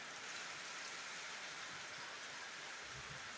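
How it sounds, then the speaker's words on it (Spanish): Steady rain falls in Guatemala, a soft, even hiss of drops that continues without a break and stays faint and distant throughout. "Miren cómo está la lluvia."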